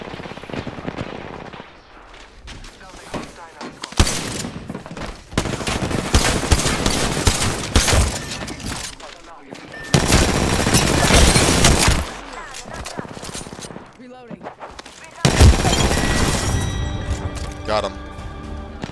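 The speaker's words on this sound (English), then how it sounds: "Mark that dude that you were shooting." Gunfire in the video game Apex Legends, repeated loud bursts of automatic shots in several long sustained volleys, with players talking between and over them.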